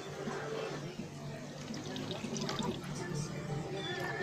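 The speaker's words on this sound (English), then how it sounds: "And after this, you have to add water." Water pours and splashes into a cooking pan of sardine bihon noodles with soy sauce, a faint, continuous trickling close by.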